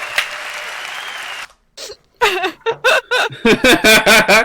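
Audience applause at a live E3 2016 Ubisoft press event, a dense burst of clapping that stops abruptly, followed by close laughter and giggling from a small group of people.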